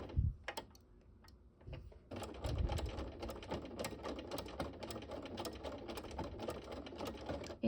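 A sewing machine stitches an invisible appliqué with fast, even ticking needle strokes after a brief start, running steadily up close.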